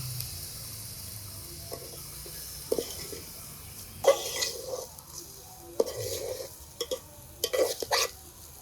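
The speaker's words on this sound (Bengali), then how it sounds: "এখন এর উপরে চাল দিয়ে একসাথে নেড়ে চেড়ে ভাজা ভাজা করবো" Bhog atap rice being stirred and fried in a pot for chicken biryani: soft intermittent scraping and stirring strokes over a faint sizzle, with a few louder clatters toward the end.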